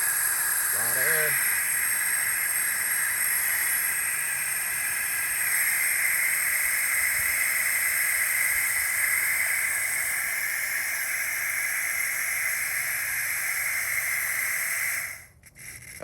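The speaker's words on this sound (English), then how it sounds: "Getting the air out of this water line." Air hissing steadily out of a newly laid water line at a greenhouse under construction, a constant broad hiss lasting about fifteen seconds before cutting off abruptly, with a brief bird-like chirp near the start.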